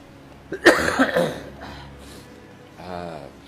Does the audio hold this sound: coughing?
yes